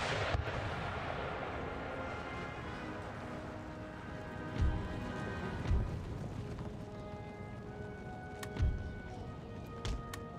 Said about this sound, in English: The first volleys of musketry have been fired.